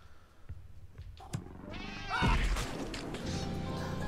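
A cartoonish cat meows in the Slayaway Camp video game, a few short cries over busy game effects, followed by a louder crash and a sustained noisy rush.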